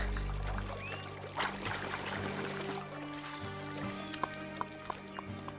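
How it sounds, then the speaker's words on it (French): Cartoon horse hooves clip-clop in a quick, light rhythm over a wash of background music, with a soft pouring texture and a few sharper hoof strikes toward the end. "Rosa Rodriguez sort des limites du parcours avec son cheval"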